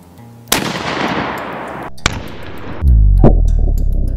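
A 12 gauge deer slug fired from a shotgun into ballistic gel: one sharp, loud blast, then a second crack about a second and a half later, followed by a sustained low rumble.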